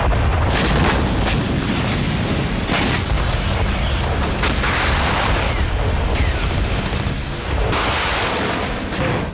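Artillery fire in the Ukraine war: a dense, loud, continuous barrage of overlapping booms and rumbling blasts that runs without a break.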